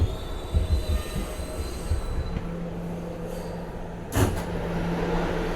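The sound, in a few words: R211 D Express subway train riding, wheels squealing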